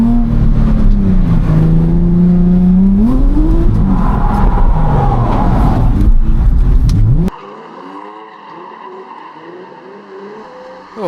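A drift car enters the racetrack at a UK drifting competition, its engine loud and close, revving and climbing in pitch over several seconds. It then cuts abruptly to a fainter, more distant engine drone.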